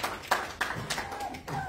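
A few separate, sharp hand claps from a small group at a workshop session, spaced out and close by, with some faint talk in the background.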